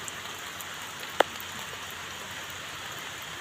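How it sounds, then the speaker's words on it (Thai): Steady rain hisses down in a dense, even wash, with a single sharp tap standing out briefly. "พอฝนตกมากครับ"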